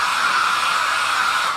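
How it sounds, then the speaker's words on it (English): A household hair dryer blows steadily on a freshly screen-printed shirt, a loud, even whooshing hum held close to the mic without a break. "Go into your mom's bathroom and take her hair dryer."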